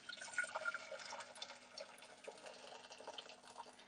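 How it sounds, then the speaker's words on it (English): Freshly boiled hot water from a kettle pours steadily into a container in a home kitchen, a faint, continuous liquid splash heard close and alone. "So the kettle's boiled. Okay. We're going to put some hot water in here,"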